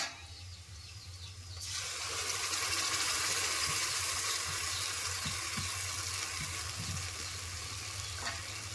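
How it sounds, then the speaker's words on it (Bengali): Fried pointed gourd sizzling loudly in a pan as masala paste is added and stirred in, a steady hiss with soft scraping and clinks from the spoon, starting quieter before the sizzle surges up. "মশলার পেস্টটা দিয়েও আমি ভালো করে নেড়ে দেব"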